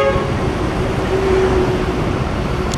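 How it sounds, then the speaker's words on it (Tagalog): Gridlocked heavy traffic rumbles steadily while a single car horn sounds a sustained toot midway through, with no voices. "Alright, nagbuhol-buhol na ang traffic dito guys."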